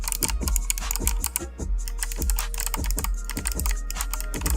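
Typing on a Patriot Viper V765 RGB mechanical keyboard with Kailh white box clicky switches, a fast run of sharp, crisp clicking keystrokes heard close up and on its own.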